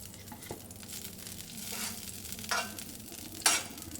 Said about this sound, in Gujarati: આ રીતે આપણે બટરમાં શેકી લેવાના છે